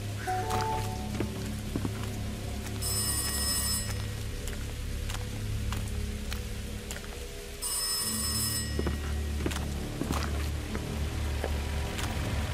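Old-style telephone bell ringing in the woods in a video game, two separate bursts of ringing over a steady bed of rain and ambient noise, with no talk.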